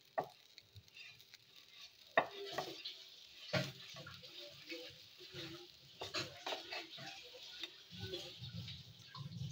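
Bitter gourd being stirred with gram flour in a pan, with irregular scraping and stirring strokes over a faint sizzle, close and moderately quiet, with no talking.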